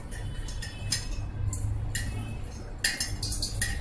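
A metal spoon clinks and scrapes against a pot while straining a homemade grape wine mixture, with bright, irregular taps spaced through a quiet background.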